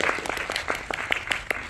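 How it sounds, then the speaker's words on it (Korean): Brief applause from a cinema audience during a film talk event at a Megabox theater. Individual claps are distinct and fairly close, forming a quick, uneven patter over a short span. "좋다고 하시니까 박수 한번 부탁드립니다."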